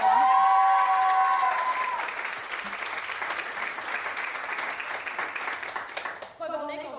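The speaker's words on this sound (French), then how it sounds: "Et tu peux applaudir." Audience applause at an awards show, steady clapping and light crowd noise that starts under a fading voice and continues before a speaker resumes.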